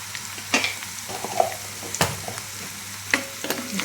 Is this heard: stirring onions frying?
yes